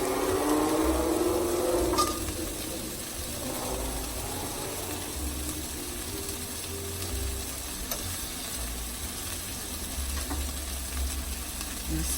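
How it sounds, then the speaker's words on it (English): Butter sizzles and fries in a pan with roasting Hatch chilies, a steady loud crackle with occasional scraping and stirring clatter and no voices. "This is where I like to put in a little butter."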